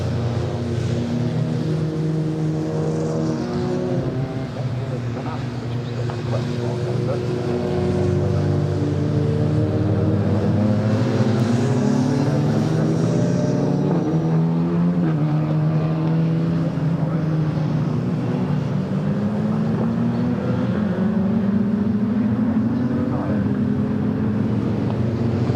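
A field of race cars circulates at reduced pace behind the safety car at Snetterton, a steady layered engine drone with shifting revs from several cars, and a commentator talking over it.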